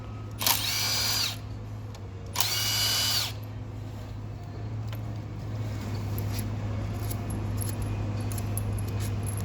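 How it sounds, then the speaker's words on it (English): A power driver spins out Torx screws holding the valve body to a Mercedes 722.9 7G automatic transmission housing, giving two short, loud high-pitched whirring bursts that are then followed by quieter clinking of the loosened screws. "We're taking off all of the Torx screws."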